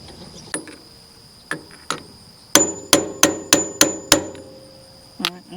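Metal hammer blows seating a hub onto a John Deere 820 tractor spindle: a few spaced taps, then six loud, ringing strikes in quick succession, close by.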